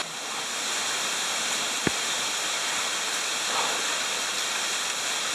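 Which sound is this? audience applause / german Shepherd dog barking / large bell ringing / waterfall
waterfall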